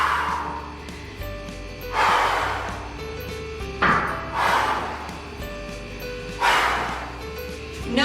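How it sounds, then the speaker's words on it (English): Forceful exhalations during a strength exercise, several sharp breathy bursts spaced a couple of seconds apart, close and fairly loud with quiet gaps between. "I want you to breathe out on the hardest part of the movement"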